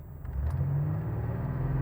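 A 1987 Buick Grand National's turbocharged engine pulls as the throttle opens, a loud, close, low rumbling drone that swells and holds steady, with no talking.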